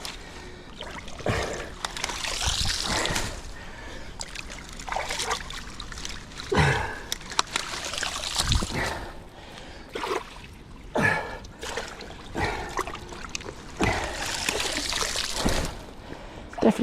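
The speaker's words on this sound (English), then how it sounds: "Definitely getting a flow on it though, as I start to remove this blockage." Dirty water flowing and splashing as a blockage is cleared from a drain, a steady rushing trickle that rises and falls throughout, with breathy effort sounds over it.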